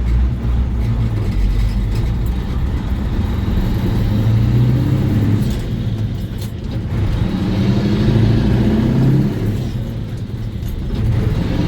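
A CAT-powered truck with a two-speed axle shifting into second gear in high range, a loud, close, low engine rumble that dips and swells as the revs fall and climb through the shift.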